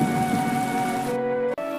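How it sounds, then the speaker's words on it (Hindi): Heavy rain pours steadily in a village at dusk, a dense constant hiss that briefly drops out near the end before a sharp burst returns. "शाम होते ही अचानक बहुत तेज बारिश होने लगती है"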